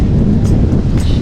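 Strong coastal wind at Cape Hedo, Okinawa, buffeting the microphone as a steady low roar through the whole moment, loud and close with brief gusty surges.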